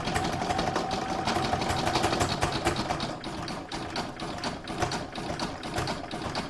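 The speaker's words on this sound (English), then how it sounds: "I'm now going to put that back in my machine and I'm going to stitch around number 9" An embroidery sewing machine runs a satin stitch around the box area of a gift box design, giving a steady, rapid mechanical whirr and patter close by with no talking.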